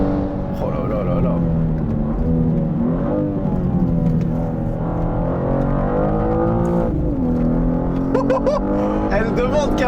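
A BMW M2 G87 accelerates hard on a racing circuit past 200 km/h, its engine a loud, sustained in-cabin drone with rising harmonics and a gear change, while someone talks excitedly over it throughout.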